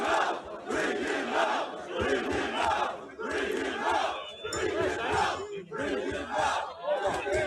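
An irate crowd of locals shouts outside a church where a man is holding out, loud overlapping voices rising in repeated surges, chant-like bursts separated by brief dips.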